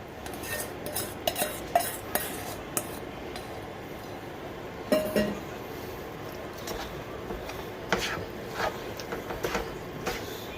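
Sauce being stirred into beef and broccoli lo mein made with spaghetti, with a utensil scraping and clinking against the pan in irregular close strokes, a few sharper knocks standing out.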